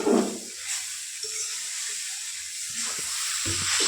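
Chow mein sizzles and hisses in a hot frying pan while being stirred, a soft steady frying hiss with a few light scraping knocks, fairly quiet.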